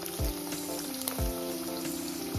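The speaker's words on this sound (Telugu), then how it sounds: "ఇప్పుడు ఇదే ఆయిల్లో ఒక 1/2 కేజీ బంగాళాదుంపల్ని ముక్కలుగా చేసి" Half a kilo of potato pieces fry in hot oil for vegetable biryani with a steady, dense sizzle. It is close and constant, with light clicks and stirring taps over the bubbling and no talk.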